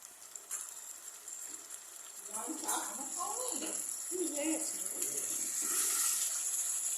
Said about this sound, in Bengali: যে বাটিতে মশলা মিশিয়েছিলাম সেই বাটিটা ধুয়ে একটু জলও আমি এখানে অ্যাড করে নিলাম